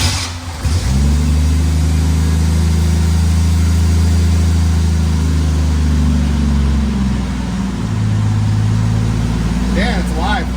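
A Jeep CJ7 engine with newly installed Holley Sniper fuel injection cranks and catches, then revs up and settles into a loud, steady running drone close by, its pitch rising and dipping slightly.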